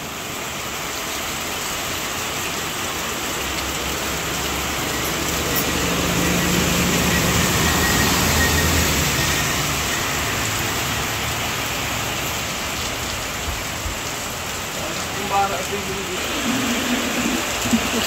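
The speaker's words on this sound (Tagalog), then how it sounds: "Grabe po ang lakas ng ulan" Heavy rain pours down around a house in a steady, loud roar that swells in the middle, with faint distant traffic and a few small knocks near the end.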